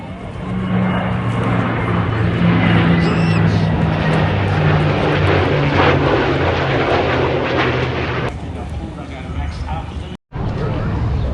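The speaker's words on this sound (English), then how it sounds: "Here they come, here they come." Jet aircraft roar loudly overhead at the Avalon International Airshow in 2025, a sustained broadband rush that swells and holds before cutting off abruptly, with a crowd voice faintly beneath.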